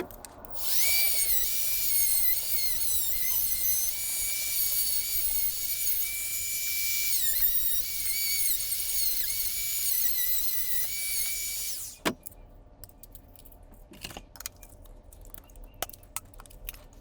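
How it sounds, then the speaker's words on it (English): A grinder whines loud and close for about eleven seconds, its pitch dipping and recovering as it cuts a car radio part to fit for a Dodge Durango or Aspen dash, then stops, leaving faint clicks and handling sounds. "I'll show you real quick as I take a grinder to this and"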